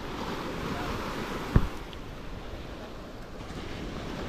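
Ocean surf from a fishing outing with nets, steady wash of waves mixed with wind noise on the microphone and a brief knock partway through.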